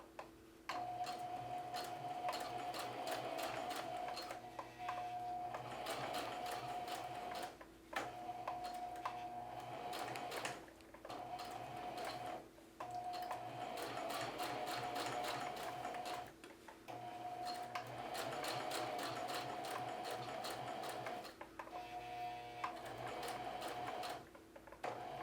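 Sewing machine stitching a denim front pocket, running in long continuous bursts with brief pauses between passes, loud and close with a steady mechanical whir and rapid needle ticking.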